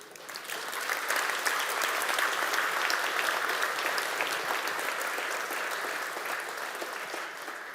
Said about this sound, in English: So let's give a big round of applause to.